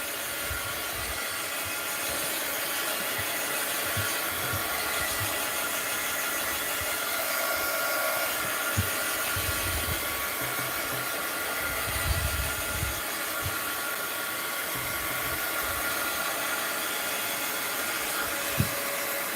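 A hair dryer blows warm air steadily onto glue and paint on handmade art journal pages, a continuous close whooshing hum that runs throughout with only faint rustling beneath.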